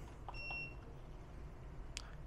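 An air conditioner run from two 100Ah LiFePO4 lithium batteries through an inverter gives short electronic beeps as it starts: two quick tones near the start, then a single clipped beep near the end, against steady low hum.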